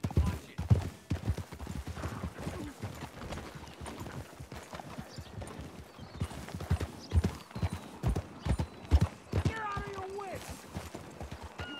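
Horse hooves clip-clopping in Red Dead Redemption 2, a steady rhythmic series of hoofbeats with a brief whinny, heard under frequent talking.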